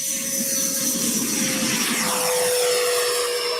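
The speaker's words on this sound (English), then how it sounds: "Taking off. Rolling on the power. Full throttle." An RC model airplane takes off at full throttle, a steady high-pitched motor whine with a droning tone that holds loud and even throughout, with no voices.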